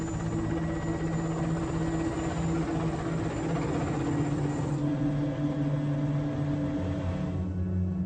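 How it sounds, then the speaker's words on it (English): A helicopter flies out over the Caspian Sea toward a deep-water oil project, its rotor and engine drone loud, steady and close from the cabin throughout, easing slightly near the end. "Our helicopter flew us out across the Caspian."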